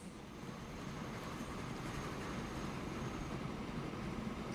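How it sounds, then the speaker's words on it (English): Steady rumble of a train running along a line in the Transport Fever transport-management game, a continuous even roar that swells slightly and holds without pauses. "so now we're putting a third train on this line"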